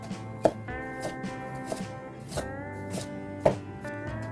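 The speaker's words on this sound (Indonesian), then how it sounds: "Kemudian untuk lobak dan wortel, iris seukuran korek api." A knife cuts radish and carrot into matchstick strips on a board for Korean napa cabbage kimchi, giving soft, evenly paced chops under steady background music.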